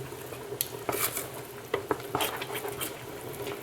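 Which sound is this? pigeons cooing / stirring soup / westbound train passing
stirring soup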